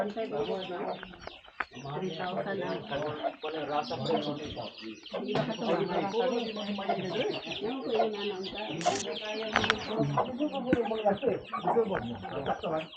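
Chickens cluck steadily throughout, a busy flock close by with voices talking over them the whole time.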